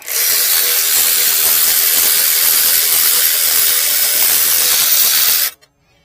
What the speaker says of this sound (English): Now I'm going to take my ratchet and get them the rest of the way out.